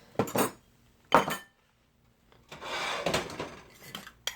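Avocado, tomato and onion tossed together in a bowl, giving a few short bursts of clinking and scraping utensil-on-dish sounds with brief pauses between them, fairly close and alone.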